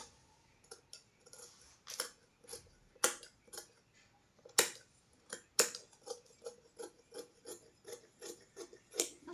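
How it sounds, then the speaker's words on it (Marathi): Scissors cut blouse fabric in a quiet room, a series of close crisp snips and clicks at an uneven, fairly steady pace, with no talk over them. "आता मी हे सगळंच असं कट करते"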